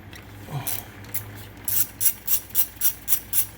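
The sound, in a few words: ratchet removing T30 Torx screws on Mini Cooper S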